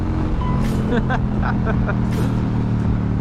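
A carbureted 1999 motorcycle drones at a steady pitch while being ridden, a constant low engine hum heard close, with someone talking over it.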